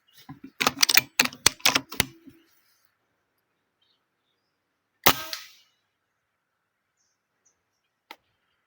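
Guns are fired upward into a fruiting fig tree at feeding birds outdoors: a quick string of sharp cracks, then a single louder shot with a trailing echo, and one faint crack later.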